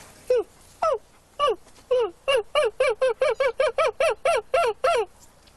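A person's voice imitates a screech owl, giving a rapid series of about twenty short descending whinnying hoots that speed up into an even rhythm, close and clear.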